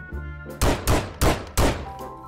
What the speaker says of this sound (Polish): Dopatrz. Strzelę tam.